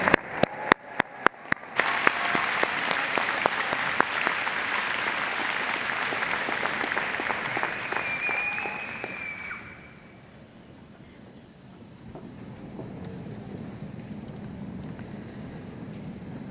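Sustained applause from a commencement audience for graduates at a Drexel School of Public Health ceremony, opening with a few sharp individual claps, then a dense steady roar of clapping that fades and thins to a quieter murmur near the end.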